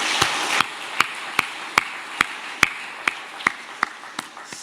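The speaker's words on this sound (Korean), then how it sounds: "여러분 한번 박수해 주셨으면 좋겠습니다" Sparse, slow handclaps, about a dozen sharp single claps at a steady pace, heard in a church setting after a poem reading rather than full audience applause.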